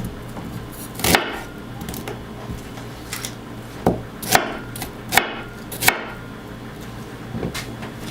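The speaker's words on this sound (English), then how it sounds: "Now with the onions, you're going to want to cut them into chunks." A knife chops onions into chunks on a cutting board, about a dozen sharp, uneven thuds spread over several seconds, close and fairly loud over quiet room hum.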